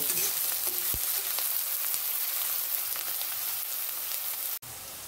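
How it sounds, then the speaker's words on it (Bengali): Sliced onions sizzle and crackle in hot oil in a pan for a Bengali fish curry with potatoes, a steady loud frying hiss with occasional stirring clinks and no talking. "সুন্দর করে মশলাটা পেঁয়াজটা ভেজে পরপর মশলাগুলো দিয়ে দেব"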